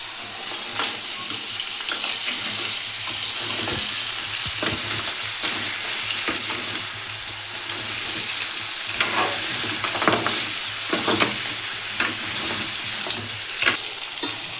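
Crab curry frying in a pan and being stirred, with a steady close sizzle and repeated soft scraping strokes of the spoon throughout, with no voices.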